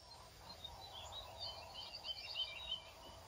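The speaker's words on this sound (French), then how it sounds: "Tu vois, là, on entend des petits oiseaux." Small birds chirping outdoors, picked up live through a Reolink security camera by a camper van, a faint scatter of high tweets over a steady background hiss.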